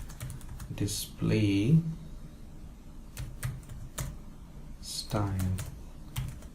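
Computer keyboard keys tapped in short, irregular bursts while editing a LaTeX document, soft and close, with someone talking over and between the typing.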